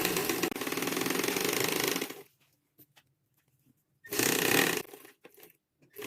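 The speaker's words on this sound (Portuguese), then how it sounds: "Viramos, organizamos os nossos tecidos e continuamos a nossa costura." Up close, a sewing machine stitches fabric for a dish towel in two loud, steady, buzzing runs, separated by a quiet pause filled with faint clicks and handling of the cloth.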